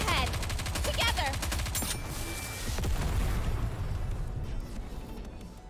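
Rapid gunfire and explosions in the mobile shooter Nikke: Goddess of Victory, a dense continuous barrage with booms, partly under game voices and music, easing slightly toward the end.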